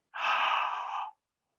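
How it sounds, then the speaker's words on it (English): One slow breath drawn in through a wide-open mouth, a soft breathy rush lasting about a second, close and alone in silence. "let's take a breath in through the mouth"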